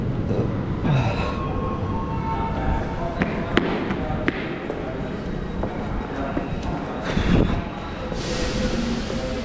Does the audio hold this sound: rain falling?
no